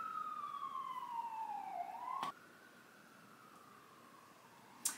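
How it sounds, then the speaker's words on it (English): An emergency vehicle siren on a New York street, a falling and rising wail that sounds fairly faint and distant, thinning out after a sharp click midway, with a brief crackle near the end. "Is that a siren?"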